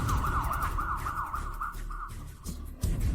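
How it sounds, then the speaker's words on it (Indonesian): A police car siren wails steadily in a repeating up-and-down pattern, fairly loud and close, running continuously through the moment with a brief dip near the end. "Aku dengar sirine polisi."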